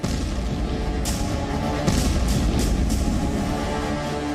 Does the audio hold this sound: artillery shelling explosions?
yes